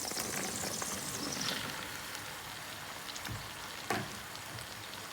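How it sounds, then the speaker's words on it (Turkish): Okra tipped into a pot of meat okra soup with grated tomato, a steady frying sizzle with a couple of soft plops and one sharp splash near the end, close and alone. "Bamyamızı ekliyoruz."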